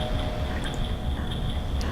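Waterfall in the Zelda: Majora's Mask video game, a constant rushing, rumbling water noise with faint watery drips and a sustained high tone over it, steady and loud.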